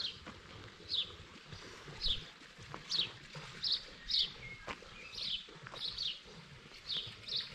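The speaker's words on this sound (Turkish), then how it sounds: "Kuşlar cıvıl cıvıl." Birds chirp outdoors in a rural Turkish village, a series of short, bright tweets repeating roughly every half second to second, moderately near over faint background noise.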